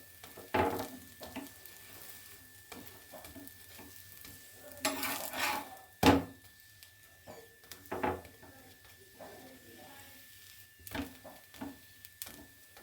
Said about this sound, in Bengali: এইভাবে খুব আস্তে আস্তে লো ফ্লেমে একটা একটা করে ভাজতে হবে।